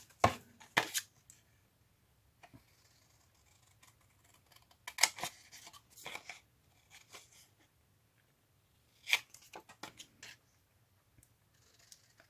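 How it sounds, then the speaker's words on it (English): Fabric scissors cutting sturdy backing paper in a quiet room, heard as a few separate bursts of sharp, close snipping and crisp paper rustle with long quiet gaps between them, and no talking. "Grab my scissors."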